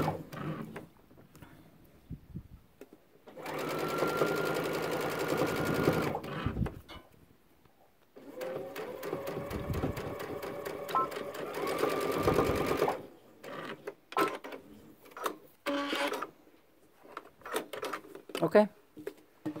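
Sewing machine running a long basting stitch through fleece for a Christmas stocking, two sustained runs separated by a pause, then scattered handling clatter near the end.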